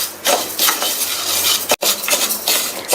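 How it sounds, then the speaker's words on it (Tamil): Moong dal dry-roasting in a pan over medium heat, stirred with a spoon in rhythmic dry scraping and rustling strokes, close and loud with a brief pause midway. "எடுத்து வச்ச பாசிப்பருப்பை சேர்த்துட்டு மிதமான தீயில வச்சு வறுத்துக்கங்க"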